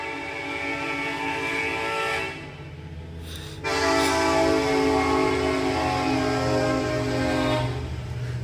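A loud train horn sounds in two long, sustained blasts separated by a brief gap, the second blast louder, heard alone as a sound effect.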